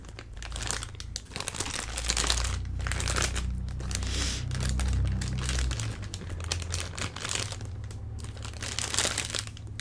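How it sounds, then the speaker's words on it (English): Plastic packaging crinkles steadily as a squishy toy is tucked back inside, a close, continuous crackling and rustling with brief soft thuds and no talk. "I'm gonna set him back inside his little packaging as well here."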